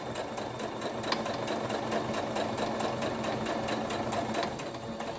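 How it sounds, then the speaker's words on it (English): A sewing machine stitching fabric bunting runs steadily at moderate speed, a close, even mechanical whir with a fast regular pulse throughout and no talking. "And then I can sew as normal, but never extremely fast because I don't want to lose my point."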